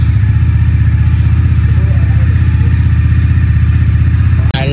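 A newly bought motorcycle's engine runs steadily at close range, a continuous low throbbing hum with a regular pulse that holds even throughout, then cuts off abruptly near the end.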